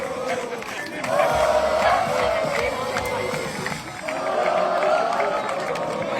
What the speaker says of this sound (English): Got white team in the background cheering along.